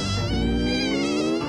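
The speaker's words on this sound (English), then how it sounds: "It's a mosquito!" A cartoon mosquito buzzes in a loud, close, continuous whine with a wavering pitch, heard alone without talk.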